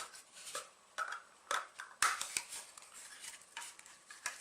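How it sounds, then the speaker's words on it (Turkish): The back cover of a Strike device being pried off makes a quiet series of plastic clicks, scrapes and small snaps, close up, with short irregular bursts and pauses and no talking. "cihazımızın arka kapağını çıkartıyorum"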